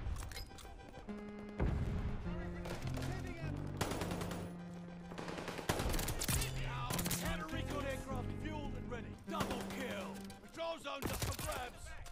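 Rapid automatic gunfire from a rifle in the Call of Duty Vanguard PC beta rattles in dense bursts through most of the stretch, loud and close among other game sounds and effects.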